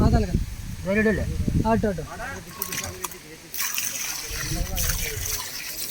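Freshly caught snakehead fish get washed in water, with splashing, sloshing and trickling while people talk over it and birds chirp in the background.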